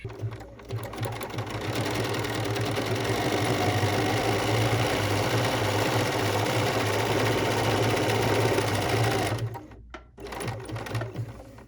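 A sewing machine runs steadily through a number 4 serpentine stitch lengthened to about 1.15 millimetres, a close, even mechanical whir that stops briefly near the end and then picks up again.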